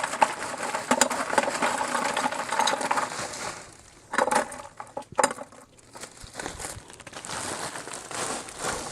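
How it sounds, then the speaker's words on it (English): Ice cubes rattle and crunch as they are poured into the canister of a homemade ice cream maker, a dense clattering rush with a few separate clinks and knocks toward the end. "we're just going to fill this up to the top of the canister with ice"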